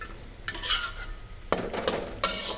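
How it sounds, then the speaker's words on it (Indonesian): Spoon scraping and clinking around a pot of jengkol rendang as it is stirred, a few bursts of metallic clatter and scraping with quiet gaps between, fairly close and alone without talk. "Kita aduk."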